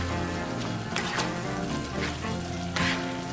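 Shrimp and seafood pasta in a white wine sauce sizzles steadily in a pan while being stirred, with a few louder clatters and bursts of spatter rising above the constant frying hiss.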